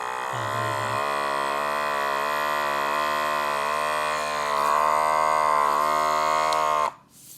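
A water dispenser pump gives a steady low electric hum with strong harmonics, droning continuously for several seconds, then cuts off abruptly near the end.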